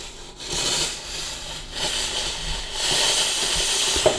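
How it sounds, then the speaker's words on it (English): A Karcher SC3 Easyfix steam cleaner lets out a steady, close hiss of steam that swells and eases in waves, ending with a small click, with no talking. "And now you can see that we have steam coming out."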